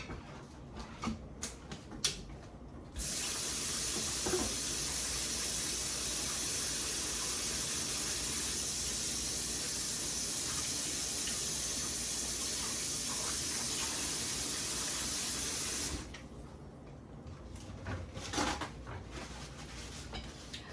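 A steady hiss of steam and bubbling water from eggs boiling runs for most of the clip, with a few faint kitchen clicks at the start and end.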